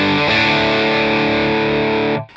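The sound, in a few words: Lancaster Audio Nobels ODR-1 overdrive plugin at lowered voltage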